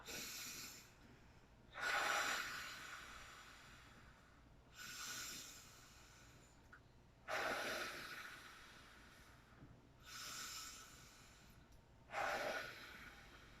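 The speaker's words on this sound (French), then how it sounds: "quand on inspire l'air, comme ça, on va ramener le ballon et quand on souffle, bien, on va gonfler le ballon" Slow, deep breaths drawn in and blown out, repeated about five times in an even rhythm, close and soft, each exhale a brief airy whoosh, with no talking.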